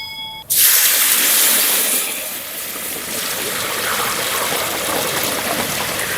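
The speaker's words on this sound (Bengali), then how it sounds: "এবার জল দিয়ে দেবো।" Water suddenly gushes into a pan of fried dal in a Bengali home kitchen, a loud, close, continuous pour that holds steady for several seconds after a sharp start.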